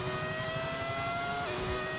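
A Formula 1 car engine from the racing game F1 25 holds a steady, loud high-pitched whine with shifting revs throughout, no talking over it.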